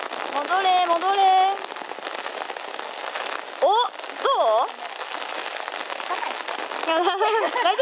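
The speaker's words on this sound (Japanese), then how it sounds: "雨がすごいです。" Heavy rain falls on a golf course, a dense, steady broadband patter running throughout the clip, with people talking and exclaiming over it.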